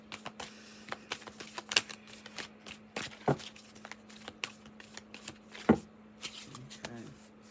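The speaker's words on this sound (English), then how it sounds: "One more good shuffle." Tarot cards being shuffled close up, with a series of quick riffling bursts and soft taps against a quiet electrical hum.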